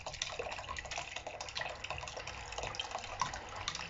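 Tap water runs and splashes steadily as cowpeas are rinsed in a colander over a container, a faint continuous trickle and spatter throughout with no one speaking.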